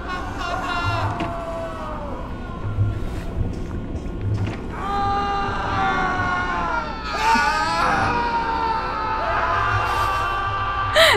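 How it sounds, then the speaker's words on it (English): Strange, wailing screams from the We Happy Few video game, with high, strained cries that rise and bend over a busy ambient game backdrop, swelling louder in bursts toward the middle and end. "Those screams sound very strange."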